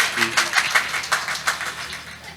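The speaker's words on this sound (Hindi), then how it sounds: "जोरदार तालियां बजाइए इनके कद के लिए" Audience clapping for a poet at a Hindi poetry stage event, a quick run of uneven claps heard alongside speech, moderately loud and close.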